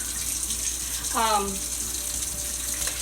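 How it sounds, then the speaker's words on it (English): Hot water runs from a kitchen tap while noodles are prepared for yakisoba, a steady close rush with a brief rising gurgle partway through, and a person talks over it. "Now the first thing we need to do is turn on the water, make it hot."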